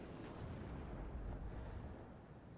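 An artillery barrage in the real-time strategy game WARNO rumbles as a continuous low roar of distant blasts, faint and blurred together rather than distinct booms.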